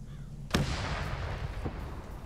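A distant artillery round fires and lands in a WW2 German-versus-Soviet combat game, a single muffled boom with a trailing rumble, followed by a fainter second thud a second later over a steady low battlefield hum.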